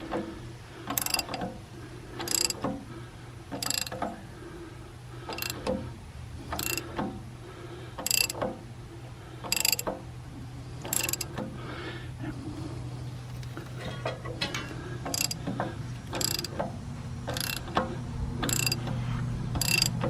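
A wrench ratchets on the pulley nut of a Cummins diesel injector pump on a Case 580, repeated sharp clicking strokes at a steady rhythm, close and distinct, over a low mechanical hum.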